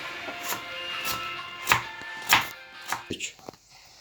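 Onions are chopped with a knife on a cutting board, giving a series of sharp, irregular taps close up, about eight distinct strikes with short pauses between them and no talk.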